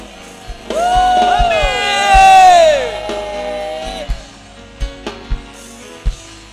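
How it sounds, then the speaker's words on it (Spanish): A church congregation bursts into loud whoops and cheering yells that swell and then fade, followed by a few scattered sharp claps or thumps over a quieter room. "Dale un aplauso al Señor."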